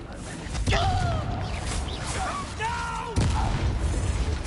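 Confringo fire-blast spell bursting in Hogwarts Legacy, a loud whooshing blast with cracking impacts amid ongoing battle noise, with a voice talking over it.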